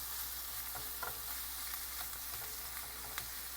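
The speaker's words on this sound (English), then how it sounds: "See the mushrooms cooking?" Mushrooms sautéing in a pan with pesto give a steady, quiet sizzle and frying hiss, broken by a few soft stirring scrapes, with no talking.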